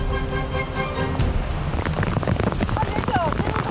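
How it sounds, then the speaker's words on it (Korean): Rain falls again on a mountainside in Shangri-La, Yunnan, a dense close patter with voices heard over it. "잠깐 소강 상태였던 비가 다시 내리기 시작했다."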